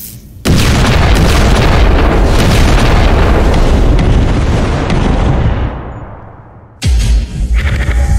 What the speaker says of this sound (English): IG-88 tracked him for the last few seconds, and then the concussion grenades blew.